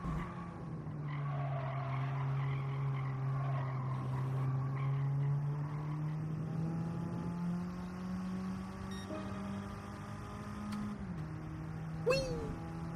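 A car engine in Gran Turismo 7 revs and holds high for several seconds, its sustained whine wavering and shifting pitch with tire squeal layered on top, followed by a brief sharp transient near the end.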